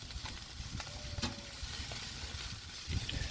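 Ribeye steaks sizzling on a Big Green Egg grill during a raised indirect reverse sear, a steady close hiss of searing meat with small crackles and pops throughout, no voices.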